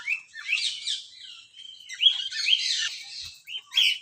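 Parrots and other birds chirp and whistle in a zoo aviary, a busy stream of bright overlapping calls and squawky tweets that come and go in bursts without pause, fairly close and clear.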